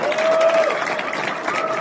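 Applause from an audience at a cultural convention stage event, a steady dense wash of clapping that fills the short moment.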